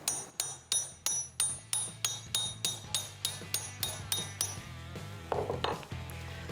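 Sharp metallic hammer blows on sheet metal clamped to a hammer form ring out in a steady, even rhythm, about a dozen strikes, followed by a few scraping, shifting metal sounds.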